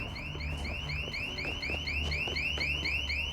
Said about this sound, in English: Oh, the alarm goes off.